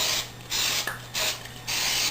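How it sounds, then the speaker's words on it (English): Non-stick cooking spray hisses from an aerosol can into a cast iron pan in three close, steady bursts, each roughly half a second long, with short pauses between them and no talking. "First thing I'm going to do is put some non-stick pan spray, cooking spray, pretty good quality spray."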